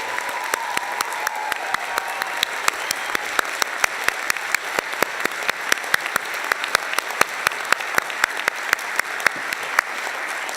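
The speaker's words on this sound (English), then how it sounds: "So can we give a big round of applause for the supporters?" Graduates and guests at Champlain College's 2015 commencement ceremony give a sustained round of applause for the supporters, many hands clapping in a dense, steady patter with sharp individual claps standing out, moderately distant.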